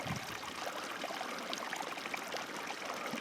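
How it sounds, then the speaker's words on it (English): Fresh spring water flowing up from underground along a mountain strip, a steady broadband rush and trickle that fills the whole stretch at moderate level, with no voices. "this strip has fresh spring water all over the place from underground"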